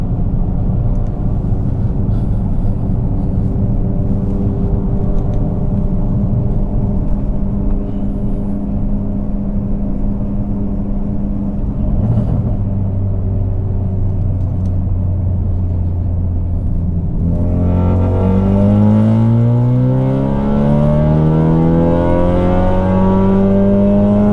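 A 2017 Ford Focus RS engine holds about 2,500 RPM in third gear, a steady loud drone with deep harmonics, then its pitch climbs smoothly near the end as it revs up. No one speaks.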